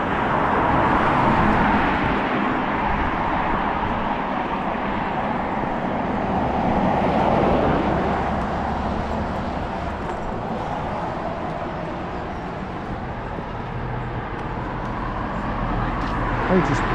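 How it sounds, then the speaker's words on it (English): Steady road traffic rumbles past a roadside crossing point near Sunderland Bridge, a continuous wash of passing cars, loud and close, swelling and easing as vehicles go by. "Just wait for a gap in the traffic now."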